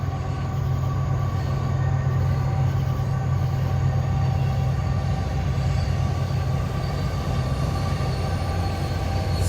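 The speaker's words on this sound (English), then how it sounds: "But there's the train." A fast train rolls past nearby at night in Stockbridge, Georgia, a loud, steady rumble of railcars with wheel squeal and faint clatter running the whole stretch without pause.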